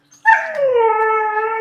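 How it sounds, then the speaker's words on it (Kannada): A dog lets out a single drawn-out, whining howl-like bark that starts abruptly and holds a steady tone for over a second, close and loud with no talking. "ನಾಯಿಗಳು ಡೇಂಜರ್ ಇದ್ದಾಗ ಮಾತ್ರ ಬಗ್ಳ"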